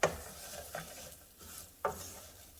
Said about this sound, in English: I'm going to add the onion and saute that for about a minute or so